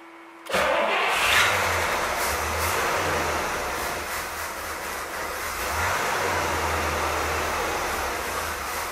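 A 1964 Pontiac Bonneville engine cranks and catches, then settles into a loud, steady running rumble with a slight rev surge partway through, heard close up with no talking.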